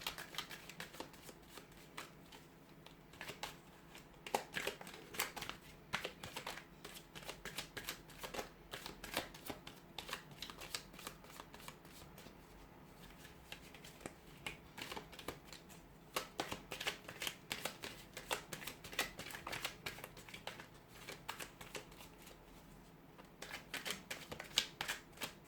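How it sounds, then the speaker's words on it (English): A deck of tarot cards is shuffled by hand close up, giving a steady, soft riffling patter that continues for the whole stretch with no talking. "give the cards a shuffle"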